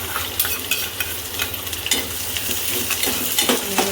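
Curry leaves, red chilies and chopped onion sizzle in hot oil with mustard seeds, cumin and asafoetida for khichdi, making a loud, steady frying hiss under rhythmic spoon stirring and scraping.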